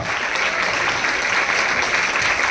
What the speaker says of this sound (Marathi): जोरदार टाळ्यांच्या कडकडाटामध्ये तुम्हाला सर्वांनी त्यांचा सन्मान करायचा आहे